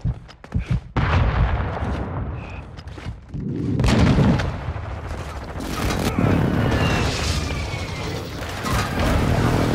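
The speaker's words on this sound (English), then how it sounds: "Friendly airstrike on the way." Airstrike explosions and gunfire in Call of Duty: Modern Warfare 2 Resurgence mode: sharp shots at first, then heavy rumbling booms and sustained loud blasts with dense battlefield noise.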